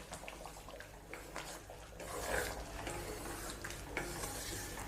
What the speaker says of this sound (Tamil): சேர்த்து நல்லா மிக்ஸ் பண்ணி விடுங்க.